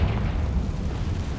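A Confringo blast spell in Hogwarts Legacy sets off a dense, rumbling explosion, a sustained low boom filling the short moment at steady loudness with no voices.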